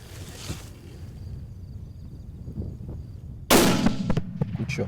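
A rifle shot at a boar on a hog hunt is a single loud, sudden crack that breaks a quiet outdoor scene and rolls away in a short echoing tail.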